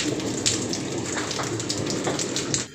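Steady rain falls during a long spell of wet weather, a continuous hiss of drops on surfaces at moderate loudness with no voices.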